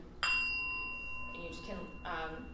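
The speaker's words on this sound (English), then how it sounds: "This is my mindfulness bell, which I just got." A mindfulness bell in a school workshop is struck once, giving a clear ringing tone that slowly decays, with a few quiet voices murmuring while it fades.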